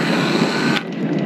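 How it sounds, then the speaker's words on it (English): A power tool cuts on a sailboat mast while the operator is up the mast in picking-up wind, giving a dense, steady buzzing grind that drops in intensity partway through and keeps going. "Using my power tool"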